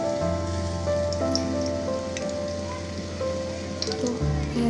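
Blended onion and green chili frying in hot oil in a pan, a steady, close crackling sizzle that hisses continuously like rain, with faint background hum throughout.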